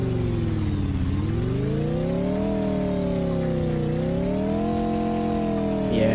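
Lamborghini engine in a Roblox game revving repeatedly, a loud buzzy tone that swoops down, climbs and settles in pitch as the throttle rises and falls, with no talk.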